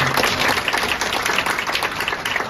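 Audience at a labour-bureau workplace lecture breaks into dense, continuous applause, many hands clapping loudly and evenly throughout.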